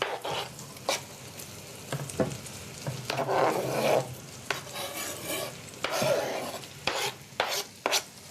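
A spoon stirs food in a cooking pot with repeated scraping and sizzling strokes in an uneven rhythm, close and fairly loud, with no talk.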